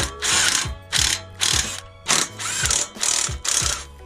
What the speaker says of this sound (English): the first thing I'm going to do is loosen up all the clamps